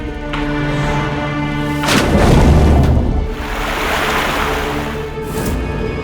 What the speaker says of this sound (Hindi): वही किनारा, वही लहरें।